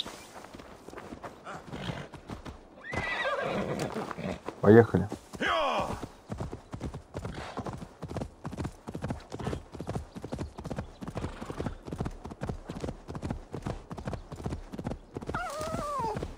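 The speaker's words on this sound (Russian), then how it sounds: "Конь." A horse in Assassin's Creed Valhalla whinnies once near the middle, then its hooves clip-clop in a steady, even rhythm close by, with someone speaking briefly over the start.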